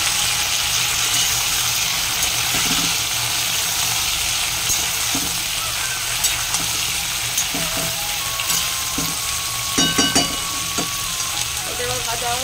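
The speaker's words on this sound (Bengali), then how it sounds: "এটা এবার ভাজা হোক।" Potato, pumpkin, eggplant, onion and green chili fry in a pan with a steady, dense sizzle that runs throughout, broken by occasional clinks and scrapes of stirring.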